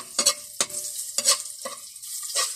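Garlic fried rice stirred and tossed in a frying pan, with five or six close, crisp scraping and sizzling strokes coming in uneven bursts.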